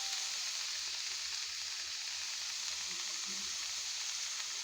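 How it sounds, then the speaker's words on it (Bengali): Shredded cabbage fries in a pan with browned onion, green chili and black cumin, a steady, even sizzle that holds at a moderate level throughout, with no voices over it. "পেঁয়াজ কাঁচামরিচ আর একটু কালো জিরা ভাজা ভাজা হয়ে যাওয়ার পরে আমি বাঁধাকপিটা দিয়ে দিলাম"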